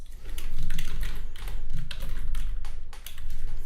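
Quick keystrokes clatter on a computer keyboard, a close, steady burst of tapping with brief pauses between short runs of keys.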